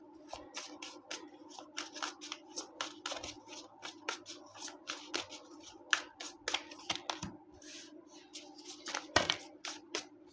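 Tarot cards are shuffled and drawn by hand, producing quick crisp riffling snaps and soft slides in uneven bursts, close-miked and fairly quiet over a faint steady hum.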